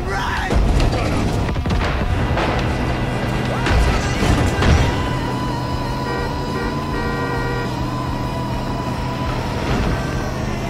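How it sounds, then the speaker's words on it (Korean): A nuclear bomb detonates in Far Cry 5, giving a heavy booming blast early on with crashing, rumbling bursts that fade into a long sustained roar and drone, loud and close with no talk. "핵 또 터졌다, 야."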